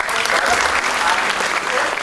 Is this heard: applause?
yes